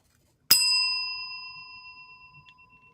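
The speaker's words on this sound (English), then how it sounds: "Ring that bell!" A small bell is rung once to celebrate a donation during a Kickstarter close-out livestream. It gives a single bright strike and a clear, sustained ring that fades slowly over about two and a half seconds, heard alone.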